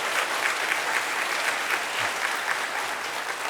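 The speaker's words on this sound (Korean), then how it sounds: "박수해 주시니 감사합니다." A church congregation claps for a pastor newly installed as senior pastor, steady dense applause filling the room throughout.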